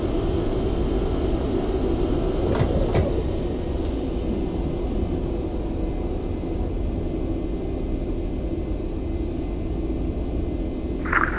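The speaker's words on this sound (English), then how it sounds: "Landing gear is coming up." Steady jet engine roar of an MD-80 airliner climbing out after takeoff in X-Plane 11, a broad continuous drone with a couple of faint mechanical clunks early on as the landing gear retracts, no talking.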